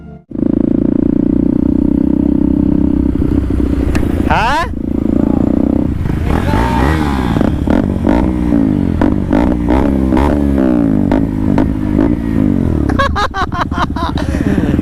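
Motorcycles at a bike reel shoot, engines revving loud and close in repeated rising and falling bursts with a sharp mechanical rattle, and a voice briefly speaks.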